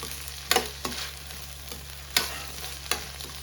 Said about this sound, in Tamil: இன்னும் கூட நல்லா வதங்கட்டும், ஒன்றும் பிரச்சனை இல்லை. நல்லா வதக்கலாம்.